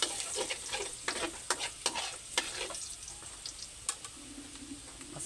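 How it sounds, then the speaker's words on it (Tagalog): Garlic sautés in a pan, a soft steady sizzle broken by quick stirring scrapes and clinks of a utensil against the pan, fairly quiet and with no speech. "Unahin po natin ang bawang."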